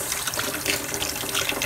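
Tap water runs steadily into a bowl of cucumber slices soaked in vinegar and water, a close, continuous splashing trickle with no voices.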